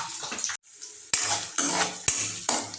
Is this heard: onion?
yes